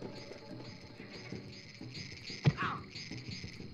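Frogs croak in the Tarzan video game, a steady pulsing chorus of quiet repeated calls with a brief soft thump partway through.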